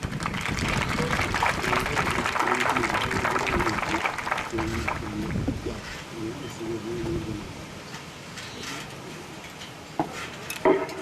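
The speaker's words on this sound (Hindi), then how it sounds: "तालियों की गड़गड़ाहट से, तालियों से इनका स्वागत किया जाए" A crowd claps to welcome a recruit constable at a police training school parade in Gorakhpur; dense applause is strongest at first, then thins and fades toward the end.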